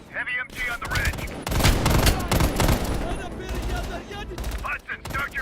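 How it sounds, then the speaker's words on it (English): Heavy machine gun fire in a war video game rattles in dense, loud bursts, joined by layered gunfire and explosions, with voices briefly audible at the edges. "Heavy MG on the ridge."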